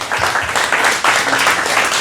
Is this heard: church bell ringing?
no